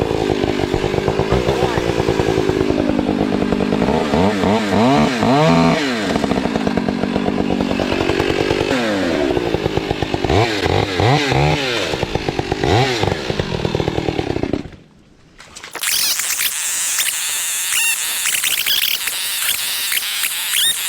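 A chainsaw runs loud and steady through pouring Florida rain, its engine revving up and down for about fifteen seconds before cutting out, leaving heavy rain hissing on its own.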